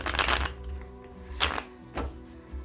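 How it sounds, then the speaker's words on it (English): A deck of oracle cards is riffle shuffled and bridged, a close, crisp fluttering burst followed by two short snappy flicks as the cards settle. "That had a nice snappy riffle and bridge"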